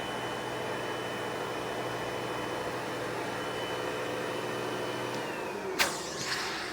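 A Sebo X-series 1300 watt upright vacuum cleaner runs steadily nearby with a constant whooshing motor drone, then its pitch drops and a sharp click or bump sounds near the end.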